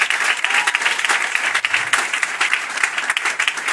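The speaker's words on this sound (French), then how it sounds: "que je vous demande d'applaudir" An audience at a church tenth-anniversary celebration and diploma ceremony applauds, a dense, continuous burst of many hands clapping together, loud and close throughout, with no talking.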